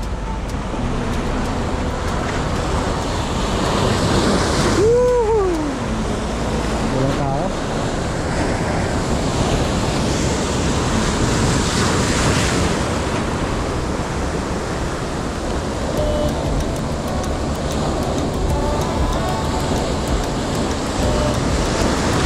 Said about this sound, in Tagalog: umahampas yung alon.